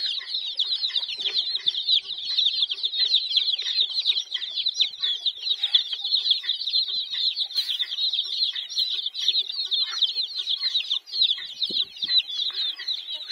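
Hens and small chicks cluck and cheep steadily among garden plants, the busy high-pitched chatter of the flock continuing close by and unbroken throughout, with no talking.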